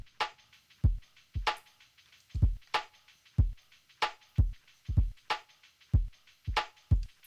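Looping drum pattern with a 16th-note shaker, punchy low kicks thumping in a repeating groove under a continuous bright shaker rattle, close and moderately loud, no voices.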